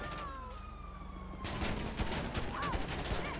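Rapid gunfire bursts crackle in a GTA 5 police roleplay firefight, layered over a sustained wailing police siren, loud and dense with repeated volleys throughout.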